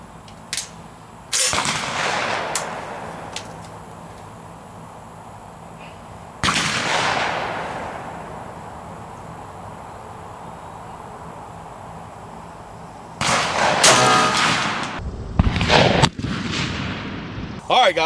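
A Browning Silver shotgun with a 28-inch barrel and Kicks Vortex improved cylinder choke firing TSS number 7 shot: loud, sharp outdoor blasts with ringing decay, spaced single shots early, then a quicker cluster of several near the end.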